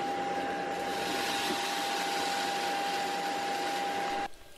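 A vacuum cleaner runs in a bedroom with a steady, fairly loud whir and a constant high tone, then cuts off abruptly near the end.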